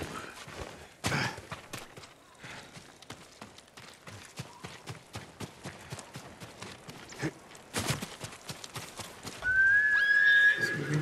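A horse in the video game Ghost of Tsushima gallops with a steady run of hoofbeats throughout, broken by loud bursts. A high whinny rings out near the end.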